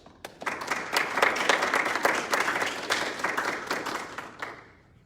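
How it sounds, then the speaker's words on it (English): Audience applause for guests at a military change of command ceremony, a steady, dense round of clapping that swells quickly, holds for several seconds and then fades. "Please join me in a round of applause for all of our guests."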